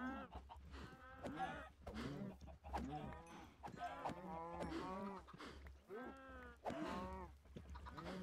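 Cows in the video game Minecraft moo repeatedly in long, drawn-out calls that overlap one another, fairly loud and close, with several adult and young cows in the scene.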